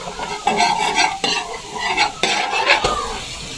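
Garlic sizzles and fries in margarine in a pan while a utensil stirs and scrapes it in repeated strokes, close and fairly loud, with no talking.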